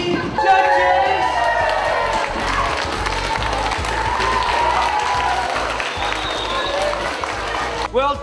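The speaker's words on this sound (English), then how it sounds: "Well done, round of applause," An audience at a truffle-making challenge claps and cheers, a dense crowd sound with scattered shouts carrying on steadily for several seconds, with voices talking through it.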